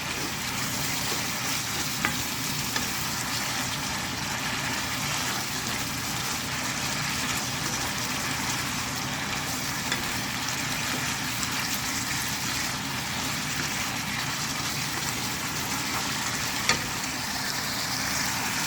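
Pork belly stir-frying in a wok with oyster sauce, seasoning and sugar, giving a continuous, even sizzle and hiss for a long stretch, close and steady with only occasional faint clicks of the spatula.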